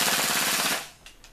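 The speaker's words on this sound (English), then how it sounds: "we will basically just do a quick full auto burst" An Umarex VFC VZ61 Scorpion gas blowback airsoft gun fires a quick full-auto burst, a close rapid rattle of evenly spaced shots lasting under a second, then stops with a couple of faint clicks.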